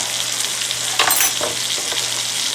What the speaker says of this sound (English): Now we're going to drop that onion in there